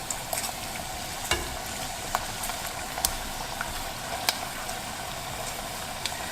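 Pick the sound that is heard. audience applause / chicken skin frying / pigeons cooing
chicken skin frying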